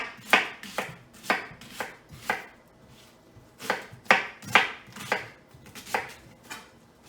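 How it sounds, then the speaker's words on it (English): A knife chopping an onion for meatloaf on a board, about a dozen crisp, evenly spaced chops with a brief pause midway, close and fairly quiet with no voices. "I'm going to chop it up."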